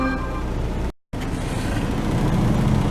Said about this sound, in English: 66 degrees with my idling truck